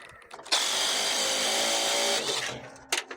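A 3/8-inch impact wrench drives a bolt tight during a roadside repair on a Jeep CJ with a 258 engine in the desert. It gives one loud, continuous, close buzzing burst of about two seconds, followed by brief clanks.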